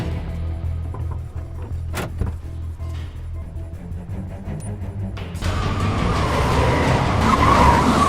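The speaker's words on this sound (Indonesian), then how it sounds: "Arthur menggunakan mobilnya untuk menabrak mobil bodyguard Diane" A car skids as it rams into a bodyguard's car, with engine rumble and scraping in the first seconds and then a louder, sustained rush of tire and crash noise that builds to the end.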